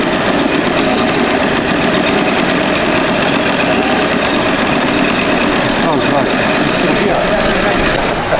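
A Parsun outboard engine running rough and unstable with a misfire, heard as a loud, continuous close-up roar that holds steady for the whole stretch with no pauses.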